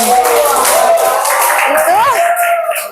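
A classroom audience claps briefly during a teaching session, a dense patter of applause heard under a voice and a sustained tone that dominate.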